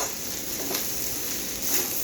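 Schezwan fried rice frying in a pan over a high gas flame gives a steady, close sizzle with faint stirring scrapes, and no voices.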